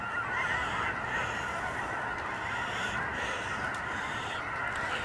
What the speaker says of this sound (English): Can you hear them geese?